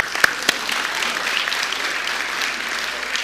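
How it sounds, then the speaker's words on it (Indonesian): Applause from a live audience at a storytelling talk, a dense steady patter of many hands clapping that holds at an even level throughout with no voices over it. "Tepuk tangan dulu"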